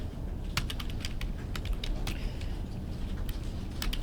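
Rapid clicking of computer keyboard keys while typing a title into a spreadsheet cell, a steady run of close, sharp taps with irregular rhythm over a faint room hum.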